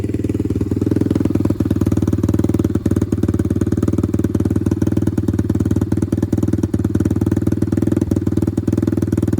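An Apollo RXF 125 dirt bike engine idles steadily and loudly nearby, a fast even chugging that holds for several seconds with no talking, measured around 65 decibels.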